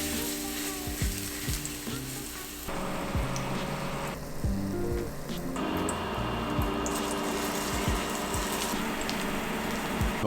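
Potato pancakes fry in a generous layer of oil in a skillet, giving a steady, close sizzle and crackle with occasional soft scraping and clicks throughout.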